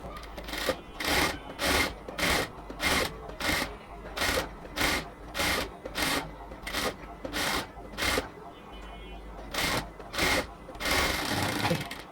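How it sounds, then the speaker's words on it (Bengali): A sewing machine stitches around the neckline of a cotton dress in repeated short whirring bursts with brief pauses between them, close and fairly loud, ending in a longer continuous run. "পুরো গলাটার চারপাশে আমরা সেলাই করে নিলাম"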